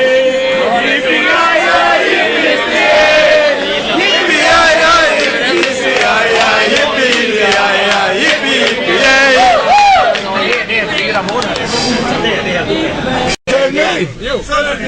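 Brage football supporters crowd together on a subway train, loudly and continuously chanting in unison, with rhythmic clapping woven through the dense, echoing roar of many voices.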